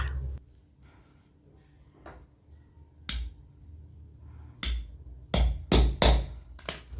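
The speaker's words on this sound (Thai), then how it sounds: "ตัวกระเป๋าเราก็จะใช้เหล็กเจาะรูในการเจาะค่ะ" Metal hole punch striking through a plastic bag strap, a few scattered taps early on, then a quick run of sharp, loud knocks close up near the end, no speech.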